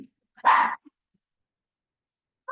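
A single loud, close dog bark from dogs fighting over a toy indoors, followed by silence and a brief faint yip at the end.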